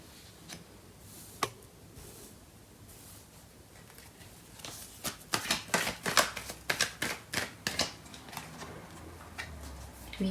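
Tarot cards being shuffled and drawn in a quiet room, with a few soft isolated snaps early on, then a quick run of crisp, close card flicks and slaps in the second half.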